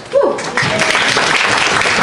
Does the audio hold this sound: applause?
yes